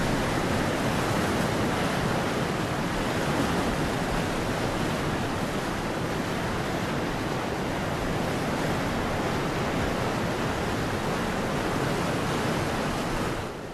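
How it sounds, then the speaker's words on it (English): Springs feeding the Orontes River rush below, a steady, dense broadband roar of flowing water that stays constant and fairly loud throughout, with no voices. "Below are the springs that give life to the Orontes River."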